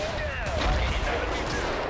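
Rapid gunfire and distant blasts from a modern war first-person strategy video game fill the scene, a dense, loud barrage running throughout with a voice talking over it.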